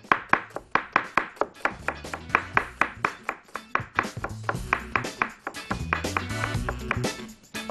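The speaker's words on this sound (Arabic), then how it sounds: "بصل افرمه فرم ناعم جدا" An onion is finely minced with a knife on a board for vegetable kofta, giving a quick, steady run of sharp close chops that speed up and blur into denser tapping toward the end.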